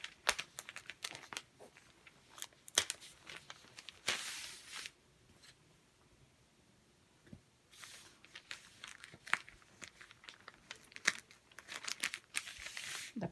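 Scissors cut through a flimsy paper pattern pinned onto fabric for a washable mop head cover, giving bursts of crisp snipping and crinkling separated by quiet pauses, close and fairly soft.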